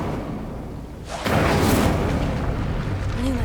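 A fire spell, Incendio, cast in a Harry Potter video game bursts in with a sudden whooshing roar after a quiet moment, then holds as a loud, sustained rushing flare that fades only slightly.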